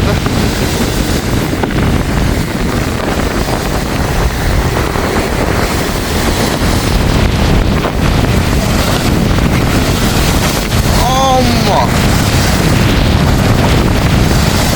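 Big sea waves surge and crash against the shore in Jaffna during a rough, tsunami-like swell, a constant loud roar with wind buffeting the microphone throughout and no voices.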